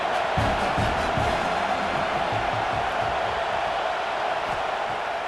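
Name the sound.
stadium crowd cheering at football game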